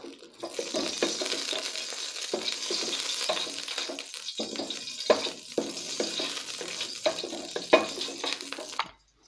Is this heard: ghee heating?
yes